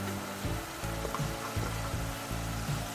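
Ground spices, including chili powder and cumin, mixed and fried in a pan for a hilsa and bean seed curry: loud constant sizzle with rhythmic scraping stirs repeating about every half second, close and alone.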